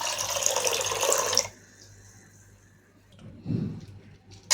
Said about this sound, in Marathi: त्याच्यामध्ये आपण अजून 1 ग्लास पाणी टाकून घेऊया